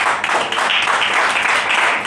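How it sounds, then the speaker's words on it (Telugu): A church congregation at a Pentecost-style Sunday service applauds, a dense, continuous burst of many hands clapping together, loud and close, with no talk over it. "బలం ఉన్నంత వరకు పట్టండి చప్పట్లు మీరు"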